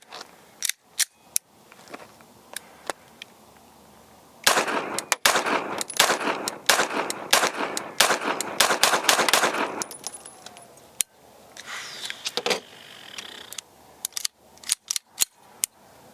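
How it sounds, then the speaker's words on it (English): Pistol shots from a Tisas 2011 fired at a range, loud sharp cracks that come singly and then in rapid close strings, with gaps of quieter shuffling between them. "definite difference in the recoil, and you just kind of get used to how that first gun shot, and then just going right to that second one"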